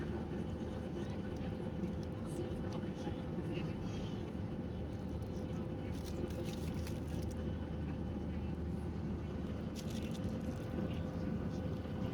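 Steady low cabin drone aboard a Jet2 airliner in mid-flight, a constant broadband engine and airflow roar with faint intermittent clicks and rustles over it.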